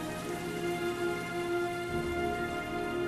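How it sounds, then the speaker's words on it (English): Heavy, steady rain pours down in the video game Heavy Rain, a dense hiss with a faint tonal hum underneath that stays constant throughout. "But it's raining heavily."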